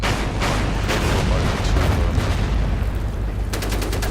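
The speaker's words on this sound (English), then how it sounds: "a little bit of naval bombardment" Naval artillery bombardment in the WW2 strategy game Order of Battle, a rapid barrage of booming gunfire and explosions, loud and relentless, ending in a quick rattling burst of shots.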